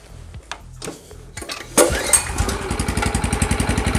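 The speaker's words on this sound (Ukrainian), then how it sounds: "Для того, щоб завести, ми заляли масло бензин, включаємо кнопку на ON і даємо трошки газу." Oleo-Mac 197 RKS petrol cultivator is pulled over a few times with short scrapes and clatter before the engine catches and settles into a loud, steady, rapidly pulsing idle, close by with no talk.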